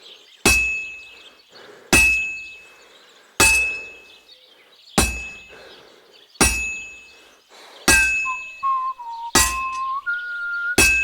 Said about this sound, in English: it doesn't go through the anvil anymore, which made it really, really difficult to figure out where you were actually hitting the sword